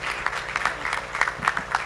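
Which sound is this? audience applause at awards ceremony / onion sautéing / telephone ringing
audience applause at awards ceremony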